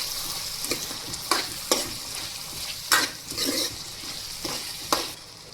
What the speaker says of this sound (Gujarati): તો આપણે તેમાં લાલ મરચું પાવડર નાખી દઈશું. અને તેને હલાવીને મિક્સ કરી લેશું.